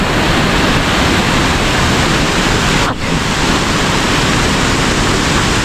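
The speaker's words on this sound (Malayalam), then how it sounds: "പുഴയാണ് വെള്ളം ചാടുന്നത്" River water pouring over rocks on a Chaliyar tributary, a loud, dense, continuous rushing roar close by with no break or change in intensity.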